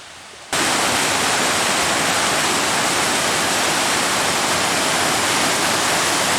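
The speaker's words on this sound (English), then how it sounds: "hopefully this cairn helps people figure out how to get down there and enjoy that awesome waterfall" A waterfall near the Old Loggers Path in the Loyalsock area roars as a loud, continuous, broadband rush of falling water after a brief quieter start, with no voices.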